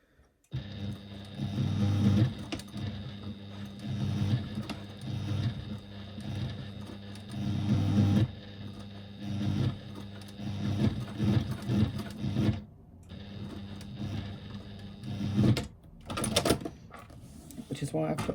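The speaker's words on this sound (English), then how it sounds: "Again, we're stitching within the gap between the basting stitches and the edges, the folded edges" A sewing machine with a large needle stitches through thick folded bag fabric, a steady motor hum running in bursts beneath continuous talking.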